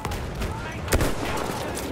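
Enemy artillery fire in a Battlefield 1 battle, a sharp booming hit near the middle within a dense, continuous rumble of distant gunfire and explosions.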